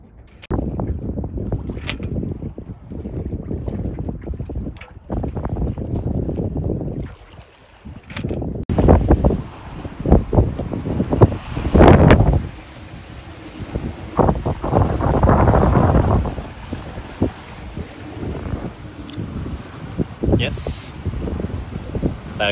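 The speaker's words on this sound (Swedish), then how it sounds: "Där kom vinden." Wind gusts roar across the microphone on a sailboat in November, with people talking at times; the blustery noise grows stronger partway through.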